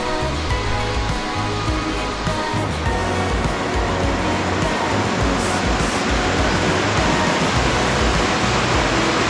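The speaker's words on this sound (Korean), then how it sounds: "물소리도 좋구나." Continuous broad rushing of water flowing down from a waterfall among rocky cliffs at Sambuyeon Falls, Cheorwon, South Korea, steady and moderately loud with no voices.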